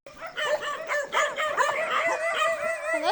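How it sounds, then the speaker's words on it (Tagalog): Several dogs bark and yip excitedly in quick overlapping bursts, close by, with a brief howl-like whine near the end. "Una na nga akong sinalubong ng mga aso ni nanay."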